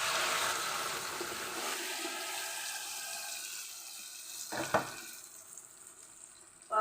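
Tomato juice poured onto softened fried onions in a hot pan sets off a loud sizzle that gradually calms and fades, with a brief spoon or pan clatter near the end.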